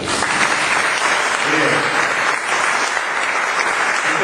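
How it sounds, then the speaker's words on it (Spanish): A church congregation at a religious mission gathering applauds loudly, sustained dense clapping close and full throughout with a faint voice underneath. "Pero un aplauso a la Biblia"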